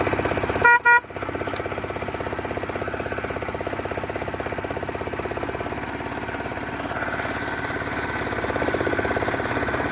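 A 7.25 gauge 7002 miniature locomotive starts with a short horn blast, then settles into a steady, close engine chug that runs smoothly to the end.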